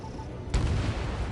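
A single heavy blast from a bomb dropped from a fighter jet in Ace Combat 7 cuts through a steady rumble of engine noise, then leaves a low, dense roar behind it.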